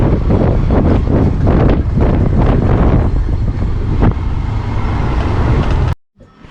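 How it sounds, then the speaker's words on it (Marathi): Strong stormy wind buffets the microphone during an evening walk through a village in darkness, a loud continuous roar with gusts for about six seconds before cutting out abruptly. "एवढा काळोख आणि खूप वादळसारखा वारा सुटलेला एकदम"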